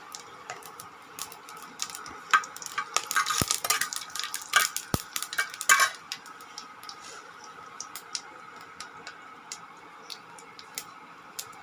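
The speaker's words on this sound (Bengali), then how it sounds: "তেল গরম হয়ে গেছে, এবারে শুকনো লঙ্কা ফোড়নটা দিয়ে দিচ্ছি।" Dried red chillies are dropped into hot oil in a kadai, bursting into a loud crackling sizzle for a few seconds, then settling back into faint ticking and light utensil clinks.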